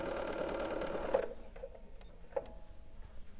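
Sewing machine stitching along the fabric edge of a simple cloth shopping bag, a steady mechanical whir that cuts off after about a second, followed by quiet handling clicks.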